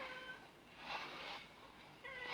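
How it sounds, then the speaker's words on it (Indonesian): A pet cat meows several times indoors, soft and close, with short drawn-out calls separated by brief pauses and nobody speaking. "Ini kucing saya mau masuk"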